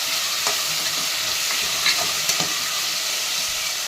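Onions sauté with salt in a pan for vegetable rice, giving a close, continuous sizzle broken by repeated scraping stirs of a spatula, with no voices.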